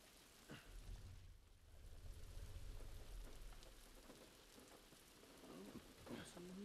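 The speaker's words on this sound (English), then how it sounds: "It's raining. It's pouring." Steady rain in The Last of Us Part II patters and hisses across surfaces, with occasional heavier drops and some faint background activity, continuous throughout.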